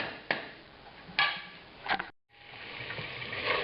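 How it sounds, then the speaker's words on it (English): Red wine sizzling in a hot pan for chilli con carne with beef or venison, stirred with a few sharp scrapes and a brief pause, a steady close frying hiss throughout. "Stir it around, and let the wine, the alcohol in the wine evaporate off for about a minute."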